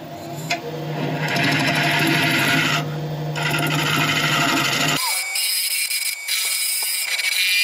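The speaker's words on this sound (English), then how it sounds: "I'm going to go back in with the carbide, the normal round carbide, to even up this surface" Round carbide lathe tool scraping across a spinning wooden workpiece with resin, a dense continuous rasping whir that cuts off abruptly, leaving the lathe humming more quietly.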